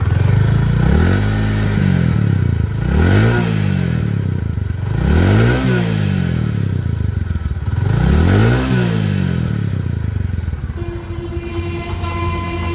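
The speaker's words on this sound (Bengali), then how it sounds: "সকালবেলা কিন্তু স্টার্ট দিলাম এক কিকে স্টার্ট সাউন্ডটা দেখেন" A Platina 110cc motorcycle with hydraulic CBS brakes idles after a kick start, its engine rising and falling in a regular surging rhythm, loud and close with no talk.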